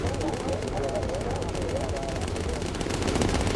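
Rapid bursts of defensive machine-gun fire with incendiary rounds rattle from a WWII bomber's gunners in the Bomber Crew video game, dense and continuous over engine drone, with someone talking throughout.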